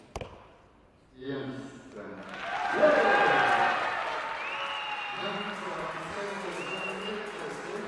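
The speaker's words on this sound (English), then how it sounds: "Can you hear that crowd cheering her on now?" Crowd at an indoor youth archery world series final cheers and applauds loudly and steadily after a shot, close and filling the space, with a commentator's voice talking over it at the start.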